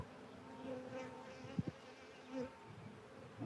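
Bees buzz around a frame of brood comb at a beekeeping field day. The drone is steady and close, with a few brief louder passes as insects fly near, and no talk.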